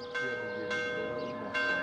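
Cathedral bells peal in Kormakiti, Cyprus, three broad metallic strikes a little over half a second apart, each ringing on with a long shimmering hum, heard at a moderate distance over a low background wash.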